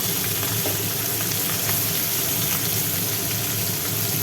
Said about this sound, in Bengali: এক পিঠ হয়ে গেছে আর এক পিঠ ভাজা হোক